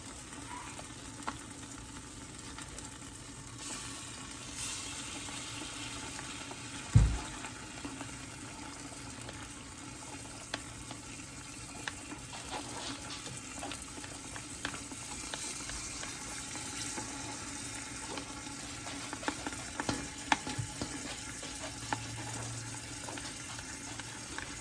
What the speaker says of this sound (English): I'm gonna add in my sauce through the strainer.